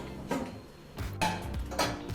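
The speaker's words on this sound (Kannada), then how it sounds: "ಕುಕ್ಕರ್ ಲಿಡ್ಡನ್ನು ಮುಚ್ಚಿ" A pressure cooker lid is set and pressed shut over mutton gravy in a home kitchen, giving three close metallic clanks and scrapes spaced about a second apart, with no voices.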